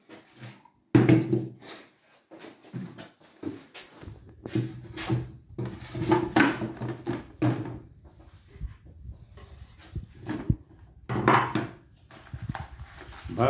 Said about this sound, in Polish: szufladę wkładamy na kółka